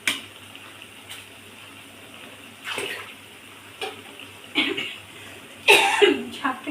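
Water poured into Malabar spinach greens cooking with shrimp, heard as several short splashing pours in separate bursts over a quiet background, the last one loudest.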